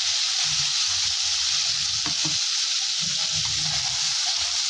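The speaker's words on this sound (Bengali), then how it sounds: "তো প্রথমেই ফোড়নে আমি এই যে জিরে আর তেজপাতাটা দিয়ে দেবো।" Cumin seeds and bay leaf sizzle steadily in hot oil for a Bengali chicken kosha, a continuous close frying hiss with a few brief crackles and stirring taps.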